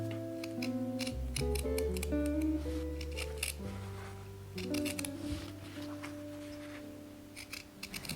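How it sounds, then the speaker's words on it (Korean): Scissors snip through embroidery fabric between the frame and the stitched picture, a few soft close cuts and rustles under a continuous bed of gentle background music. "영상과 같이 액자와 그림 사이를 가위로 잘라주시고요."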